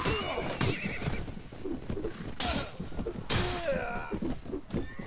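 Horses whinny repeatedly among clattering hooves during a mounted fight in the video game A Clash of Kings, with several sharp neighs and hoofbeats over steady game noise.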